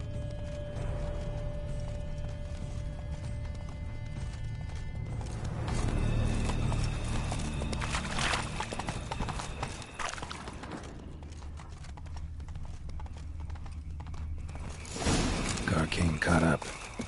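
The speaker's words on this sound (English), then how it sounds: "Horses must have gotten spooked." Horse hooves clip-clop steadily alongside a whinny, set against a dense game soundscape from The Witcher 3: Blood and Wine, with a voice speaking over it.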